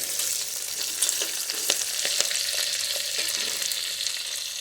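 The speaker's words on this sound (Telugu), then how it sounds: "ఉల్లిగడ్డలు, కరివేపాకు, ఇవి కొంచెం సేపు వేగాలండి ఉల్లిగడ్డలు." Onions and curry leaves fry in a pan with a steady, bright hiss and sizzle, broken by a few soft scrapes and pops as they are stirred, close up with no talking.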